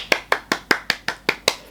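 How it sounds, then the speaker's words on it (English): Eight sharp hand claps in a steady rhythm, close and loud with no talk, from people applauding the Chrome R goggle utility jacket. "Clap for yourselves, guys."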